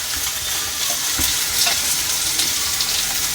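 Small bommidala fish fry in a pan of hot oil, giving a loud, even sizzle with occasional soft crackles and stirring clicks, heard close and uninterrupted by speech.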